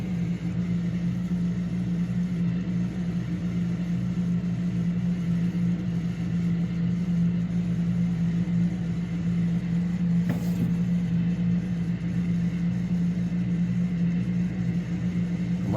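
A steady aircraft engine drone with a strong low hum runs unbroken through the flight simulator takeoff, loud and constant with a brief faint click partway.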